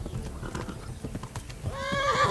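A horse's hooves clop in quick uneven beats during a gallop in the video game Kingdom Come: Deliverance, then a loud rising whinny breaks out near the end, close and clear.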